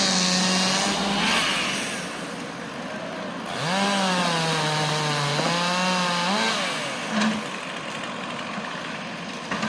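During a tree removal, a chainsaw trims limbs, its engine revving and dropping in pitch in repeated loud surges close by, with equipment noise behind.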